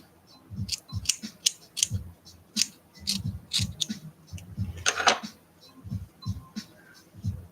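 Scissors trimming a handmade art doll, a series of close snips in an uneven rhythm with a brief louder rustle partway through, no talking.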